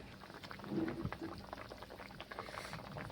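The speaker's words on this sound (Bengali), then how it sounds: "এখন ঝোল ফুটে গেছে" Spiced red rohu fish curry gravy bubbles in a covered pan, a faint, low, steady simmering burble with a slightly louder swell near the start.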